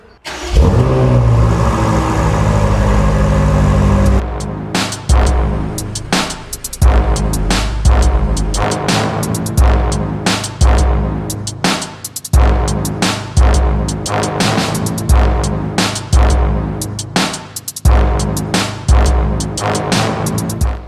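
BMW car engine, loud and close, first held at a steady high drone, then revved again and again in sharp repeated bursts, each climbing and dropping back, with no talking.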